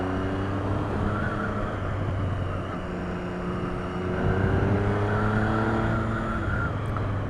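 Triumph Street Triple 675 motorcycle engine pulling from low revs in third gear, a steady droning hum with slowly rising pitch and continuous wind rush.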